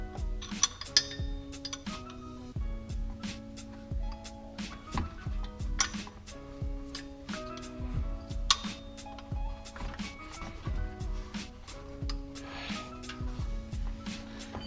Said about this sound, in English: So you put your larger wrench over your other wrench like such, gives you a lot of leverage